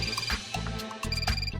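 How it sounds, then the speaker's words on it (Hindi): A telephone rings indoors during a TV comedy scene, a steady repeating electronic ring running throughout with background music and ambience. "फोन बज रहा है"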